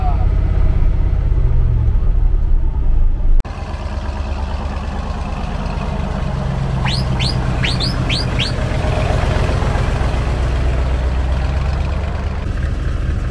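A large vehicle's engine rumbles steadily at idle and then under throttle, a low continuous drone with bird chirps rising briefly over it and people talking nearby.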